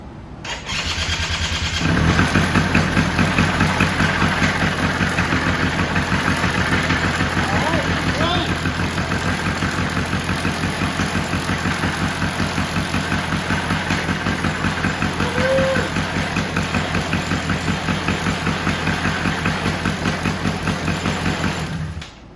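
The engine of a 2003 Polaris Sportsman 90cc ATV starts after being choked and keeps running at a loud, steady idle for about twenty seconds, with a fresh top-end rebuild.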